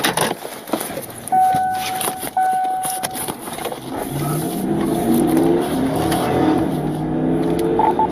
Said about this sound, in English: Just revving his engine here.